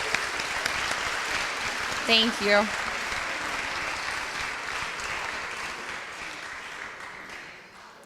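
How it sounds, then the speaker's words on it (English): An audience at an alumni reunion awards ceremony claps for the facilities team, a sustained wash of applause heard from a distance that fades toward the end, with a brief spoken voice near the start. "Can we give a round of applause to our facilities team all weekend long?"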